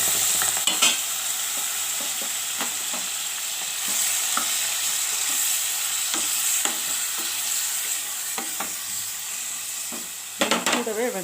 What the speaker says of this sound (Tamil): இப்போ எண்ணெய் நல்லா காஞ்சதுக்கப்புறம் நம்ம மட்டனை போட்டு நல்லா வதக்கலாம்.